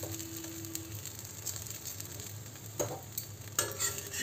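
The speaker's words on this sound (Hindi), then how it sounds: "दोनों साइड अच्छे से घी लगा के पराठे को लाल और क्रिस्प होने तक" A paratha roasting in ghee on a griddle, a steady soft sizzle with a few scraping, pressing sounds from a spatula as it is turned, close and fairly quiet.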